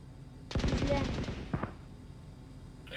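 Gunfire in the video game Valorant: a rapid automatic burst of about ten close, loud shots, then a brief second burst, followed by quieter game ambience.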